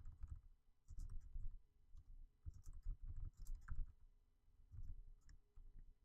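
Typing on a computer keyboard: soft, irregular clusters of key clicks in short bursts with brief pauses, quiet and close.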